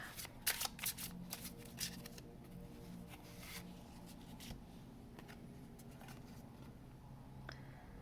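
A deck of cards is shuffled close up, with rapid riffling bursts at the start followed by softer, scattered card flicks and rustles.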